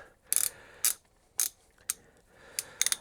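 A ratchet wrench tightens the cylinder head bolts on a Gilera Nordwest motorcycle engine, with short bursts of close metallic clicking separated by pauses, the last few coming in quicker succession.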